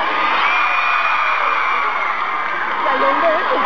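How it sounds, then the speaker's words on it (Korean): A large concert audience roars with continuous cheering and screams, a dense wall of crowd noise that holds steady throughout with no pauses. "여러분 박수 부탁드립니다."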